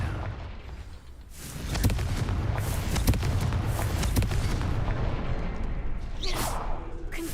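Confringo fire-blast spell exploding in the video game Hogwarts Legacy, a loud burst of booming, crackling blasts that builds after a quiet start and sustains with sharp impacts, then a final hissing whoosh.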